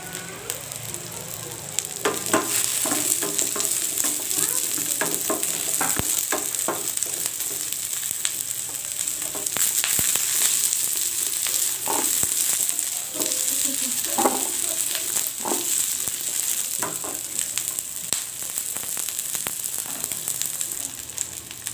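Garlic and shallots sautéing in a pan for a vegetable curry, a steady close sizzle with scattered crackles and light stirring scrapes that runs throughout, no talk.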